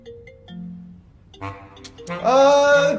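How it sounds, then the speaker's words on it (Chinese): A mobile phone ringtone plays a bright, rising electronic melody that grows louder toward the end, preceded by quieter tones and scattered background sounds. "谁的手机在响啊？"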